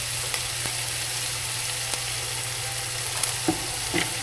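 Pancit noodles crackle and sizzle steadily in a hot pan while being stirred and mixed, a dense continuous frying hiss with occasional scraping clicks of the utensil, close and alone.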